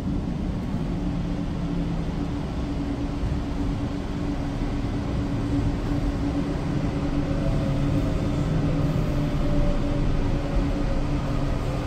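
A Kolkata metro train rolls into Dum Dum Cantonment station with a steady, loud rumble and hum that holds throughout, with no voices over it.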